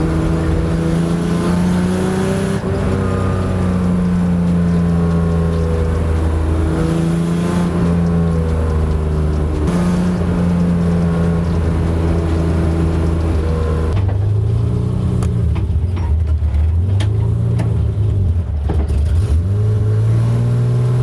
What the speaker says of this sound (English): I'm driving this spec E30 right now.